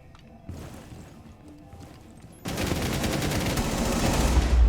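Sustained automatic gunfire from a cheating player using recoil and hip-fire cheats in Rainbow Six Siege, starting faint and distant, then bursting loud and close into a dense, continuous rattle of rapid shots.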